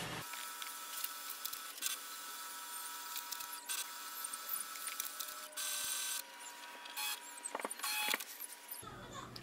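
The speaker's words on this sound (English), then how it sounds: "It will start the scanning process." An HP OfficeJet 8015 printer runs a scan, with a quiet mechanical whir broken by clicks and faint clattering bursts near the end, all close by in a hushed room.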